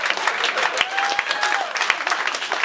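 Audience applause at a comedy special, a dense patter of many hands clapping at moderate volume for a few seconds, with no talk over it.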